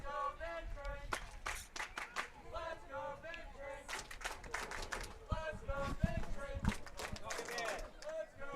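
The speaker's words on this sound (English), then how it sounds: "can hear the crowd offering their support" Crowd at a summer-league baseball championship game clapping in rhythmic bursts, moderately distant, under a broadcaster's ongoing commentary.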